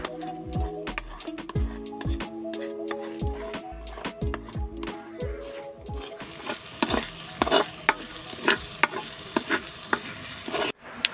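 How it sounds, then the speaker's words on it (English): Eggs being scrambled in hot oil in a pan, with a steady sizzle and repeated scraping and stirring strokes, continuing into a louder, busier frying hiss in the second half. "In a pan, just heat your oil and add your eggs. So scrambled egg lang yung gagawin ko dito."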